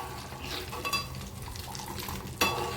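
Hot ghee stirred in a metal pot with the gas turned off, a spoon scraping and clinking against the sides over a soft background sizzle, with a louder scrape near the end.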